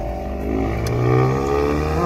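A ProCharger-supercharged Dodge Charger with a 392 engine revs loud and close, a sustained deep engine roar that swells and holds steady.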